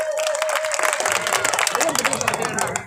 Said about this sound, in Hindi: जोरदार ताली बजाकर भी सम्मान दीजिए